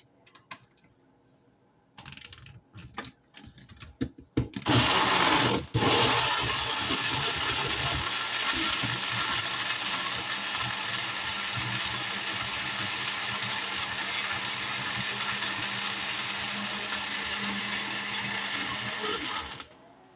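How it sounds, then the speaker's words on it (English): A few clattering clicks and bumps, then a blender blending fresh pineapple starts up and runs with a loud, steady whirring roar for about fifteen seconds before stopping. "And we're going to blend."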